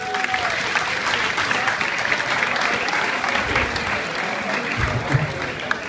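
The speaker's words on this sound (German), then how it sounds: "Nochmal einen Applaus bitte" An audience at a Swabian comedy show gives a sustained, even round of applause that rises and holds throughout, with a few faint voices underneath.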